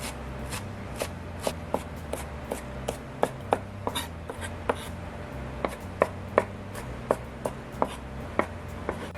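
Long leek being chopped with a knife on a board, a steady series of crisp close thuds roughly every half second, about twenty cuts with no talk.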